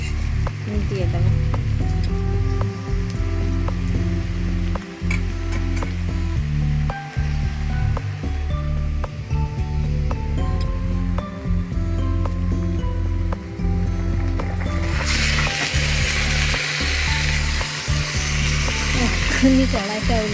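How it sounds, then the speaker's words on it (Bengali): Chicken for a spicy Bengali chicken kosha hits a hot pan (kadai) and sizzles, a broad hiss rising near the end of the clip over steady background music and clinks. "এবার মাংসটা দিয়ে দেবো।"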